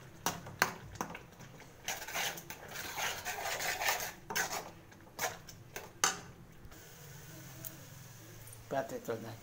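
Pots, dishes and cutlery being washed in a home kitchen, with scattered clanks and clatters at varying distance over faint background noise, some louder knocks in between.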